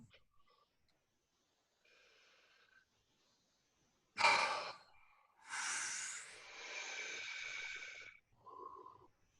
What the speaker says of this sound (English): Second one, a forced exhale.